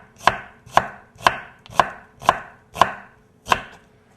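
A knife chops through a tomato for a fresh tomato, cucumber and onion salad, giving seven crisp, evenly spaced cuts against a board, close and clear with no talking.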